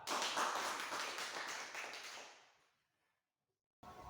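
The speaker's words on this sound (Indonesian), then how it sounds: "beri aplaus untuk kelompok 4" A group claps for group 4 in a classroom lesson, a dense round of applause that fades out over a couple of seconds into silence.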